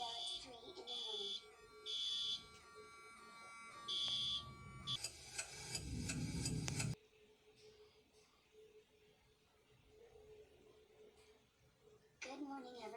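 A household fire alarm goes off at night, sounding loud, repeating electronic beeps in regular pulses, then a harsh continuous blare, with a softer lull before the alarm returns at the end.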